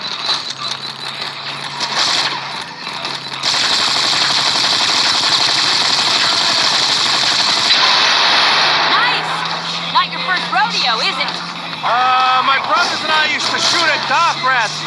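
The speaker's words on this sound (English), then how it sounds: "take this gun and shoot at the assholes behind us while I drive" Gunfire and engine noise from the mobile game Gangster Vegas 4 during a car chase shootout, with loud continuous rapid bursts over a droning vehicle engine and game voices speaking.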